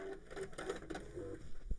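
A sewing machine runs a straight stitch at a 2.8 stitch length, giving a short, steady run of rapid mechanical pulses at moderate, close-up volume with no talk over it.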